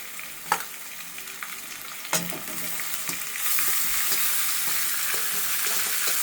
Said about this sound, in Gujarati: હવે એમાં આપણે આપણું આ નૂડલ્સ નાખી દઈશું।